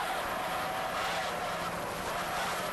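Twin turbo offshore powerboats with 2.5 EFI engines race at the 1993 Flag Ship International Offshore Challenge, a continuous loud, rough engine roar that holds steady throughout.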